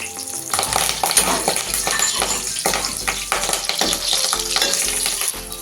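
Green chillies and curry leaves fry in hot oil for a fish pulusu, giving a steady, fairly loud crackling sizzle with repeated stirring scrapes throughout and no voices.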